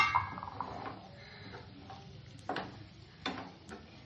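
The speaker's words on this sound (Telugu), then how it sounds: "ఒకసారి చూసుకొని కలుపుకుందాం." Close, soft scraping and clinking of a spoon stirring a cooked dish in a pan, in a few distinct strokes over a faint sizzle, without speech.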